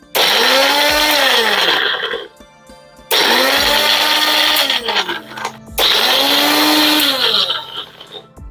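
A kitchen blender grinds dried ginger in three loud whirring bursts, each switched on, run for about two seconds, then cut off into near silence.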